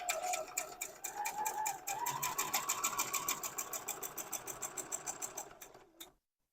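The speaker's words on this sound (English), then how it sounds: "I hope my bobbin doesn't run out while I am stitching this" Sewing machine stitching a quilt block for a hidden nine patch, a steady close run of rapid needle ticks that slows into distinct separate stitches before stopping abruptly into silence.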